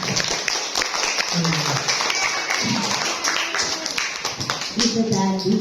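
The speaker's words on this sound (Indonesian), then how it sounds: "Tepuk tangan dulu dong." Clapping from a classroom audience, a dense patter of many hands mixed with children's chatter and voices, filling the whole stretch at a steady, fairly loud level.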